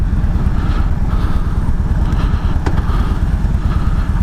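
Loud, continuous motorcycle engine rumble recorded while riding, a steady low throb with clattery mechanical texture and wind noise throughout.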